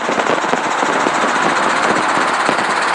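Helicopter engine runs close and loud as the governor comes on and rotor RPM increases, a dense, continuous roar with a fast rhythmic throb throughout.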